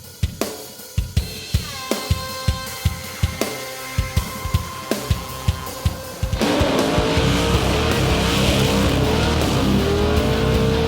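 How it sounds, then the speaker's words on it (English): Supercharged LS2 Camaro on a burnout pad, first a string of sharp, rhythmic throttle blips, then a sustained roaring rev with tire squeal, loud and close. "Joel Arcus, up from Wellington, ready to heap more torture on his new school Camaro"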